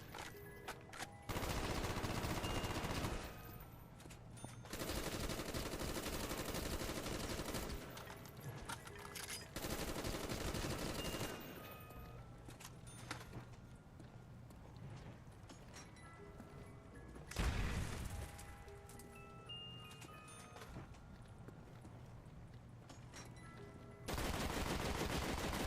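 Bursts of bullet-weapon gunfire in CoD Zombies on the Ascension map, rapid automatic fire in loud stretches separated by quieter gaps of game ambience.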